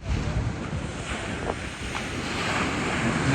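Ocean waves wash steadily against the shore at Xcaret near Cancun, Mexico, with strong wind buffeting the microphone in a continuous loud roar and no voices.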